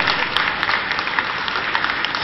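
An audience claps at a KP astrology conference, producing dense, continuous applause from many hands at a fairly loud, steady level for the whole stretch.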